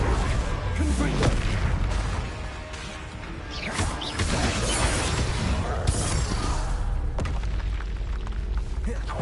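Confringo fire spell explosions in Hogwarts Legacy boom and crash loudly, with shattering impacts and whooshes layered over continuous battle noise and a voice heard briefly.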